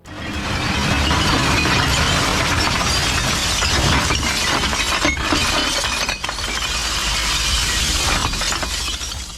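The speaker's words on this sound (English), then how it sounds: "the drivers back up to a massive storage bay and release the load, sending a cascade of bottles tumbling down" A truckload of glass bottles cascades onto a recycling pile, a loud sustained crash of shattering and clinking glass that tumbles on for several seconds.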